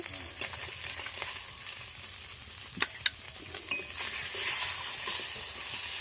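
Fish sizzles in hot oil in a pan while a utensil stirs and scrapes, with a few sharp metallic clinks as the fried fish is lifted out; the frying hiss runs steadily and fairly quietly underneath.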